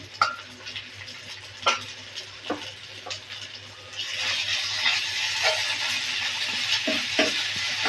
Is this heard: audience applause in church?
no